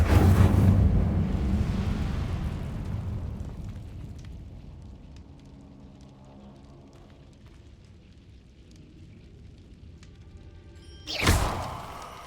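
Incendio fire spell cast in Hogwarts Legacy: a loud whooshing burst of flame that roars, then fades into a faint crackling tail, with a sharp second burst near the end.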